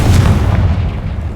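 A Confringo fire spell bursts in Hogwarts Legacy, a single loud, close boom that trails off into a short rumbling decay.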